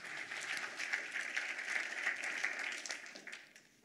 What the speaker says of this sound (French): Jean-Philippe Ackermann, on l'applaudit s'il vous plaît, merci.